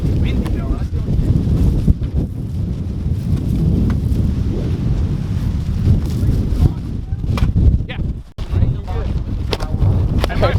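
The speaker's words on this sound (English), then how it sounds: "Windy though, that's the only thing." Wind gusts outdoors on a wet day buffet the microphone in loud, continuous rumbling bursts that swell and ease, briefly dropping out near the end.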